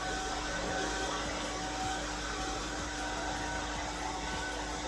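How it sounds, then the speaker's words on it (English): A pet dryer blows steadily during dog grooming, a constant airy whir with a low hum, moderately loud and unbroken throughout. "I've changed the setting on the dryer to cool setting"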